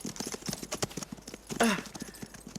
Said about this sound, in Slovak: Asi sa kôň splašil.